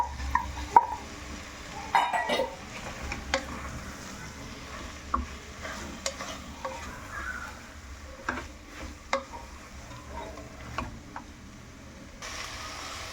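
Raw mango and coconut pieces for a Konaseema-style mango coconut pulusu stirred and gently sizzling in a pan, with soft scraping, light clinks of a spoon and scattered quiet knocks, no one speaking.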